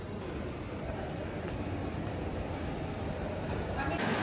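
Inside a moving passenger train, a steady low rumble of wheels and carriage noise filling the whole stretch, close and even with no clear talk.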